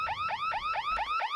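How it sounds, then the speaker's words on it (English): A car alarm sounds in the indie exploration game Urbex, a repeating rising electronic whoop cycling about five times in quick succession, loud and steady with no talking over it. "Why is the alarm going off?"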